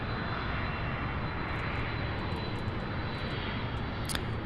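An airplane takes off at SDF airport, where UPS heavy freighters operate, producing a loud continuous engine roar that stays steady for the whole stretch, with a faint brief chirp near the end and no talk.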